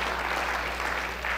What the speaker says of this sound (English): can we give a huge round of applause to all of our parents?